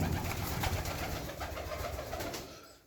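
Pigeons coo steadily in low, throaty murmurs, several birds overlapping close by without pause.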